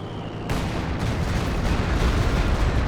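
A Stuka zu Fuss rocket artillery barrage in Company of Heroes 2 erupts abruptly into a dense, continuous roar of rumbling blasts and impacts that keeps building in loudness.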